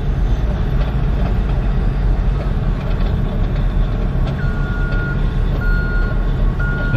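A road train truck reverses with a steady series of high electronic beeps, fairly faint above a loud, continuous low diesel engine rumble outdoors, with no talking.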